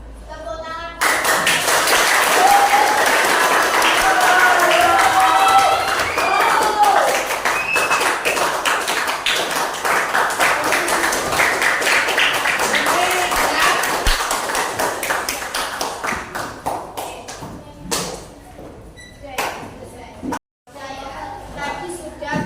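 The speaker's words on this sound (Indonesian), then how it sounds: "Oke, tepuk tangan." Classroom clapping from students during a religious diversity lesson, a burst of claps with taps and thumps running about fifteen seconds before thinning out, with voices talking over parts of it.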